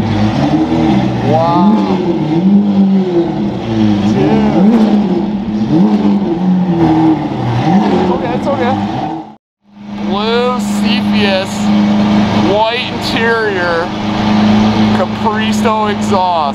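A Lamborghini Aventador fitted with a Capristo exhaust revs loudly and up close, its engine note rising and falling in repeated sweeps, with a brief cut to silence before another burst of revs and onlookers talking over it.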